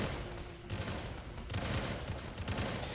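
Rapid barrage of cannon fire in a video game testing mass Western Asian cannons, a dense run of booms and blasts rolling continuously for a few seconds at moderate loudness with no talk.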